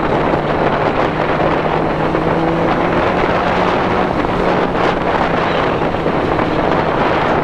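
Steady, loud wind roar buffeting the microphone while riding a motorbike at night, continuous broadband rush with a faint low engine hum underneath, no talking.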